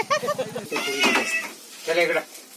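A cat meows three times up close, each call drawn out and wavering, with short pauses between them.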